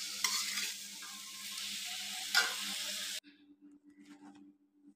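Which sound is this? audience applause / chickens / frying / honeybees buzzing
frying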